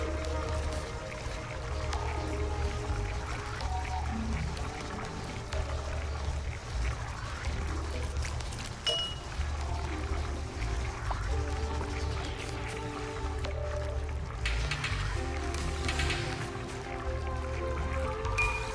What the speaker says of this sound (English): Got water pumping.